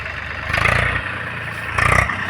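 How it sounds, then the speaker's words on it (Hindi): A tractor engine idles close by with a steady low rumble and a chugging throb, surging louder twice in brief swells. "ट्रैक्टर आमर"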